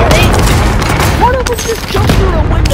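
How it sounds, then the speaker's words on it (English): Gunfire and booming blasts rumble loudly and continuously during a Call of Duty Warzone match, with an enemy cluster strike landing among dense combat noise, while voices talk over the action. "Enemy cluster strike."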